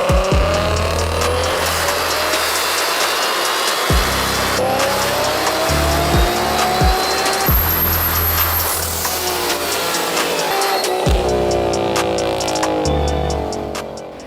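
A turbocharged Toyota Supra A90 making close to 1,000 horsepower runs hard on a dyno, its engine roaring loud and close through repeated rising revs and gear changes, with turbo whine and no talk.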